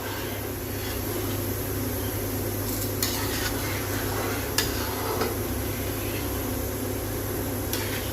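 Gram flour (besan) stirred and roasted in a pan on a gas stove for a dahi kadhi, a steady soft scraping and faint sizzle with occasional light clicks of the spoon against the pan, alone and without talk.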